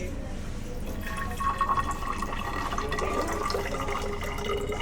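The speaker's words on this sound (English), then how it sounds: "first we're going to be adding some water to the graduated cylinder." Water is poured into a graduated cylinder for a penny density lab, giving a soft, steady trickle with a rising filling tone over a few seconds, fairly quiet and close.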